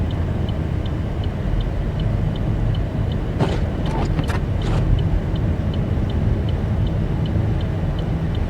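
A car travelling on snow-covered Interstate 70 in the Colorado Rocky Mountains during a snowstorm: a steady, heavy road and engine rumble with a regular quiet ticking throughout and a few brief clicks midway.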